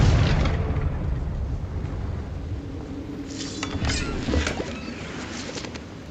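A Confringo blasting spell explodes in the video game Hogwarts Legacy, a loud broadband burst up front that rumbles and fades, followed by scattered crackling debris and smaller pops.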